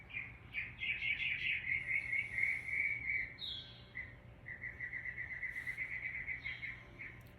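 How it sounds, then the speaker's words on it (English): A sparrow chirps outdoors in a rapid run of bright, high tweets, pausing once midway before resuming, clear and fairly close over a low steady background rumble. "See a sparrow. I believe it's a sparrow. Yeah, that's a sparrow."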